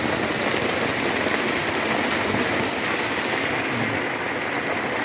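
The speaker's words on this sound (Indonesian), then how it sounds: "hujan lebat." Heavy rain falls steadily at a fishing spot, a dense, even hiss of rain on surfaces that stays loud and unbroken throughout, with no talking.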